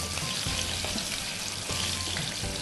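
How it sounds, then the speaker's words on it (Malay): Bean sprouts fry in a pan in a steady, dense sizzle, with occasional soft clinks from stirring running through it. "Goreng tu sehingga ia kekuning-kuningan."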